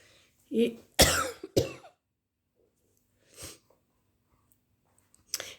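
A woman coughs in a quiet room, a cluster of sharp, close coughs followed by a softer one and a faint clearing sound after a pause.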